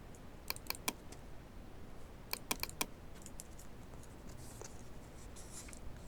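Computer keyboard keys pressed while working in Photoshop: two quick groups of three crisp clicks, then a few softer taps, faint and close with no talking.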